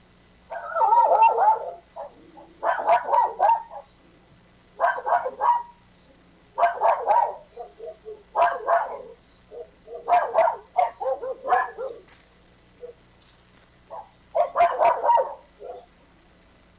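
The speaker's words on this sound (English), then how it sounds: "But the dog was barking." A dog barks in repeated bursts, about eight clustered volleys of several barks each spread evenly across the stretch, moderately close over a quiet background hum.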